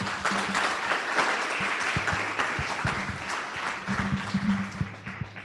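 An audience at a child justice summit gives a speaker a fresh round of applause, with steady crowd clapping heard at moderate distance and a faint low hum running underneath for the whole stretch.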